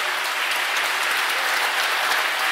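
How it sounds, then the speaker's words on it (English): Audience applause fills a jazz concert hall, a dense, steady wash of many hands clapping together, loud and continuous with no voices standing out. "So a big round of applause please at the start of the evening for Sekunjalo."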